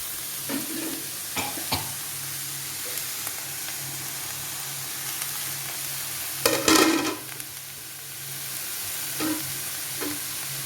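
Mixed vegetables stir-fried in a pan after grated coconut goes in, a continuous frying hiss broken by repeated spatula scrapes and clanks, one louder burst of stirring midway.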